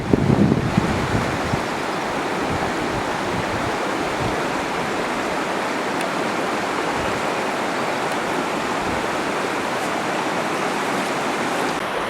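A swift glacial river near Maclaren Glacier rushes in a steady, loud, broadband roar, close by and unbroken, with some wind buffeting the microphone.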